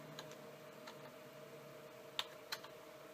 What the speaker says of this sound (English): Backspace, and we're going to type in Lemmings